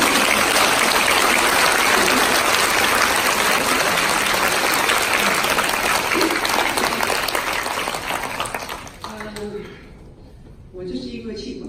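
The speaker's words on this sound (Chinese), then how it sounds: "我们来一次很热烈的掌声，谢谢一下那个志工的师兄师姐" A large audience bursts into loud, sustained applause that thanks the volunteers at a gathering. It stays dense for about nine seconds, then thins and fades, and scattered voices and a few claps remain at the end.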